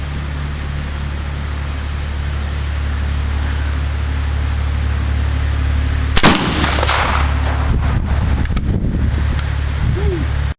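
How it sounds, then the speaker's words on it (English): A .54 caliber Connecticut Valley Arms percussion rifle with a set trigger fires one robust 90-grain powder load in a single loud, sharp blast. It rings out over steady wind and rumble, followed by a few fainter knocks. "So let's go ahead and give it a shot. Loaded with 90 grains of powder,"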